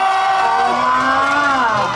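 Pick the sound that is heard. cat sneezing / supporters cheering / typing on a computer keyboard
supporters cheering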